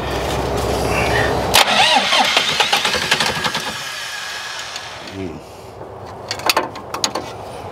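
A 40-year-old telehandler's engine cranks with a rapid whirring starter, catches and sputters roughly, then falls away to irregular coughs and spits, loud and close.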